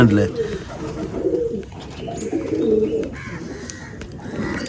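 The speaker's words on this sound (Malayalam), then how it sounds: "നല്ല കുറുകുന്നുണ്ട് പ്രാവ്" Low, throaty cooing of male pigeons in a loft rolls on continuously up close, with voices murmuring in the background.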